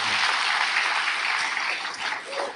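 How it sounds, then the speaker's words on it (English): A church congregation applauds loudly and continuously, a dense wash of hand claps that holds steady then begins to taper at the end. "Give the Lord a great big hand clap since you've been wanting to."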